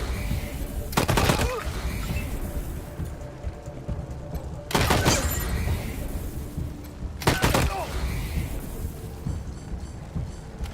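Gunfire in the Wasteland 3 video game comes as three loud, sharp bursts from a weapon that keeps firing, separated by a few seconds of quieter ambient noise.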